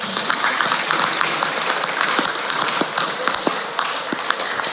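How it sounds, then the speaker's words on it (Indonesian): Audience applause for a Madurese community leader and kiai at an Isra' Mi'raj religious gathering, a steady wash of many hands clapping with scattered sharper claps, continuous and moderately loud throughout. "Tepuk tangan untuk beliau ini."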